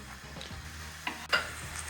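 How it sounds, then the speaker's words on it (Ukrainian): Onions sizzle softly as they fry in a pan, with a brief stir and a scrape partway through; no voices. "Будемо цибульку смажити до золотистого кольору"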